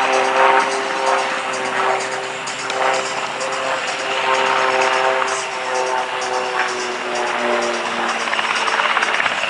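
Aerobatic airplane flown by Spencer Suderman climbing vertically at the 2010 NAF El Centro Air Show: a loud, steady propeller-engine drone that holds its pitch throughout, with no voices over it.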